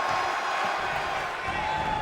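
Crowd at a WWE 2K wrestling match cheering, a dense, loud roar of many voices that holds steady throughout with no break.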